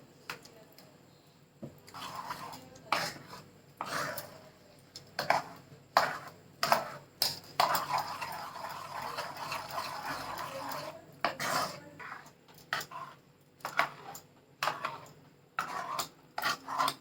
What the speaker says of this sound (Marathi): सगळं चांगलं मिक्स करून घ्यायचं